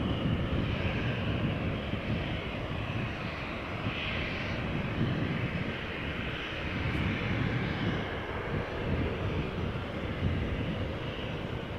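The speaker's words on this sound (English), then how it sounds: "we have Ryanair going to Dublin, 737-800, 15 years old, first flight November 2007" A 15-year-old Ryanair Boeing 737-800 takes off from Amsterdam Schiphol bound for Dublin, its jet engines producing a sustained, broad rumble at moderate distance that stays fairly steady throughout.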